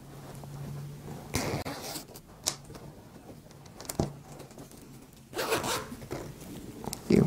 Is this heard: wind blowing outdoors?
no